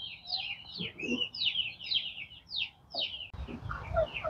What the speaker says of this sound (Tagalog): Mga manok natin nandito.